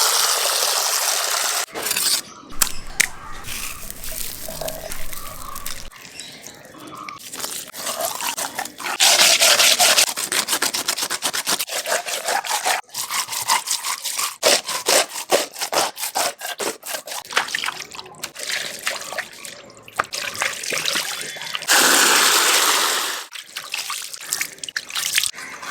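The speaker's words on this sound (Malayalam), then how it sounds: "നാരങ്ങാനീരും ഉപ്പ് ഒഴിച്ച് മീൻ ക്ലീൻ ചെയ്യാൻ വേണ്ടി പോവാണ്." Fish caught from a river in Kerala are rubbed and scrubbed by hand with lemon juice and salt, making close wet rubbing and squelching with splashes and drips over a steady stretch.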